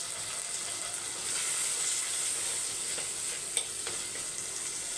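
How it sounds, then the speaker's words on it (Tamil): Onions and tomatoes sizzle and sauté in a pan with a steady frying hiss, close and continuous, with a faint stir or clink near the end and no talking. "வெங்காயம் பாதி வதங்கி வந்துருச்சா"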